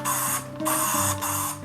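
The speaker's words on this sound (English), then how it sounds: "spray this frame and just let the furniture polish sit on it" Furniture polish is sprayed from an aerosol can onto a bike frame in two long hissing bursts with a brief break between them, loud and close.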